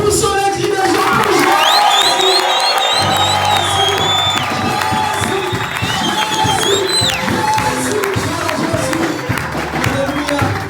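A church congregation at a French-language worship service shouts, whoops and cheers together in a loud, continuous wall of voices, with shrill cries rising over the crowd noise for the whole stretch.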